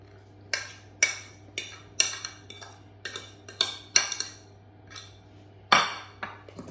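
Ginger pieces stirred through a gluten-free ginger spiced cake mixture, with a series of sharp utensil clinks and scrapes against the bowl in an irregular rhythm, close and fairly clear over a low steady hum.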